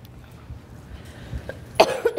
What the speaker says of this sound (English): I haven't deafened everybody again with a cough in the microphone.